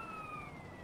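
Police siren wail in a GTA San Andreas chase, a steady sliding tone heard faint and distant beneath low background rumble, no talking.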